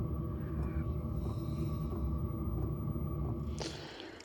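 A diesel heater ticks steadily in the background of a greenhouse on a cool morning, a low continuous hum and faint rhythmic clicking running throughout, with a brief rustle near the end.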